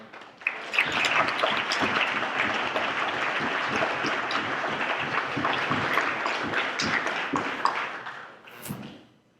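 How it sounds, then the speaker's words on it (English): Sustained applause from a crowd, dense clapping that holds steady for several seconds before fading out. "So another round of applause."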